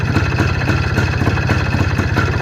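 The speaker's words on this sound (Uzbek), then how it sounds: "Mototsikl yurib turibdi." A motorcycle engine idles close by, a loud, steady low throb with a fast, even pulsing rhythm and no voices.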